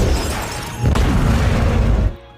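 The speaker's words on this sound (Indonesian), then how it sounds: "Stu melempar salah satu tangki gas ke salah satu sopir anak buah Tejo dan seketika langsung membuatnya meledak" A gas tank exploding in an action film bursts in as a loud, sustained low-frequency blast, a heavy rumbling boom that holds for over a second before cutting off abruptly.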